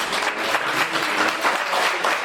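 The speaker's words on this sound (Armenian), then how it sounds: "ԵՒս մեկ անգամ բարձր ծափահարություններ ծնողների" Steady, dense applause from a crowd of guests honouring parents at a birthday celebration, many hands clapping evenly and filling the room with no talking.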